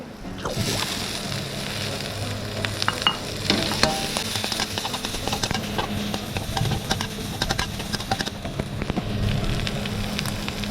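Golden apple snails stir-fried with chili paste, garlic and basil in hot oil, a steady close sizzle with frequent scraping and clattering of the spatula against the pan throughout.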